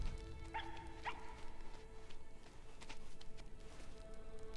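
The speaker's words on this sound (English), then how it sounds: "Yapping dog." A small dog yaps inside the video game RiME, two quick high barks near the start and then faint yips, set against a quiet ambient game background.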